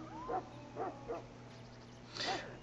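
Mabari warhound barking in Dragon Age Origins, a few separate moderately loud barks spaced apart over a steady low background hum.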